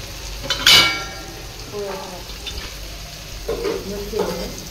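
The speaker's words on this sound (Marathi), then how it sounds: "त्या लाल मिरच्या टाकायच्या आणि थोडीशी लाल मिरची पावडर" Red chillies and chilli powder are dropped into hot oil with onion in a pan on low heat for whole masoor, setting off a sharp close sizzle followed by softer frying and light spoon-and-pan clinks.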